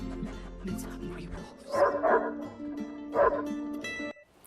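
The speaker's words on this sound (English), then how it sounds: "that dog bark" A dog barks several times in the video game Wolfenstein, short yelping bursts over a continuous tonal game soundtrack, with faint talk mixed in.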